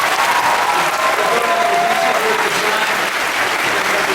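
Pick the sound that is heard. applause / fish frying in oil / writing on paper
applause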